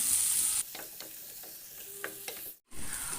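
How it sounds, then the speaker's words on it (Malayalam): Sliced onions with turmeric sauté in a pan, a steady sizzle broken by several scraping spoon strokes and a brief drop to near silence before the frying resumes. "ആ ഉള്ളി ഒന്ന് വാടുന്ന വരെ വാട്ടിയെടുക്കാം"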